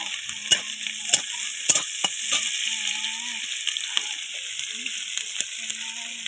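Small pond shrimp fry in a pan with chilli powder and green chillies, and steady sizzling runs under scattered sharp clacks of a utensil stirring, close up and with no one talking.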